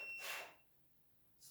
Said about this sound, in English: I already tried the stud finder. Because there's electrical behind here, it's just going to beep like crazy.